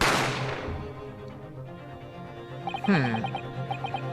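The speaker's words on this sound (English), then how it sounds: "So that's when you heard the gunshot, you mean?" A single gunshot in the video game The Great Ace Attorney Chronicles: a sharp crack at the start that decays into a fading ring, followed by fainter, quieter game sounds.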